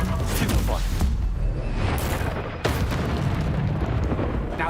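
Bombarda spell explosion in the Hogwarts Legacy video game: loud, dense booming blasts with rumbling debris, two sharp bursts standing out amid continuous chaotic noise and a shouted voice.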